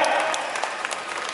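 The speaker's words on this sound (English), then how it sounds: "Round of applause" An audience at a Father's Day event at Singapore Sports Hub gives a short round of applause, steady crowd clapping heard from within the room.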